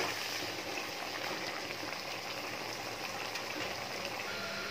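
Shrimp and cucumber stir-frying in a pan give a steady, close, dense sizzling hiss that runs unbroken throughout.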